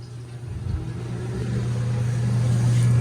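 An old atmospheric-venting coil boiler roars to life, a steady low hum and rumble that builds louder over a few seconds, broadband and close, with no speech.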